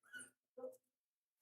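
A small dog, the wife's little pet, gives two short barks in quick succession, then starts a third at the very end, fairly close and moderately loud.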